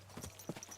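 Horse hooves clip-clopping on the ground in Kingdom Come Deliverance 2, a few quick, fairly faint steps close by, with no talk.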